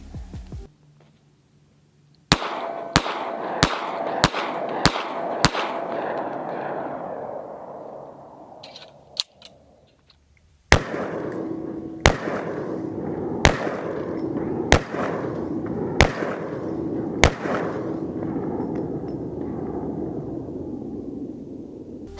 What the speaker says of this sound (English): I did want to shoot a small group just to see how awesome this match grade bull barrel really is